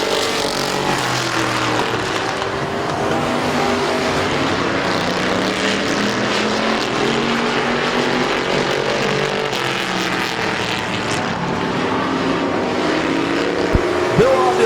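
Race cars roaring around the dirt oval at Midvale Speedway, a dense continuous engine drone with overlapping cars, steady and loud throughout with no clear gaps.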